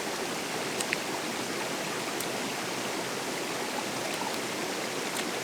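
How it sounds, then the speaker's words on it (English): Waterfalls and streams at Pwll-y-Wrach in the Black Mountains, heard as a continuous, broad rushing of water that stays steady and full throughout, with no talking. "I'm surrounded by waterfalls"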